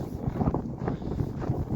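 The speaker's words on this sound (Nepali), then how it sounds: "यहाँ एकदम सिरसिर बतास" A strong, cold wind blows outdoors on a scenic, sunny spot, rumbling and buffeting close against the microphone in an unbroken gusty roar.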